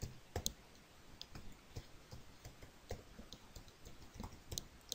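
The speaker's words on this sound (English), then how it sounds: "So I'm just going to type the address of that." Light, irregular clicks of a computer keyboard as a web address is typed, the keystrokes coming in quick bursts with short pauses; faint and close, with no voices.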